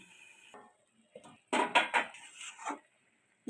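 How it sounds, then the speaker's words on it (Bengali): A lid clatters onto a pan of frying ridge gourd and potatoes: a few close metallic clanks and rattles in a short burst, with quiet kitchen noise before and after. "এই সময় আমি ঢাকা দিয়ে দিচ্ছি"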